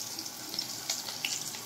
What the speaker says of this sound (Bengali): সজনে ডাঁটাটা প্রথমে একটু ভেজে নেব